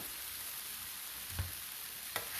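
Noodles frying in a pan: a soft, continuous sizzle heard alone, with two brief stirring scrapes near the end.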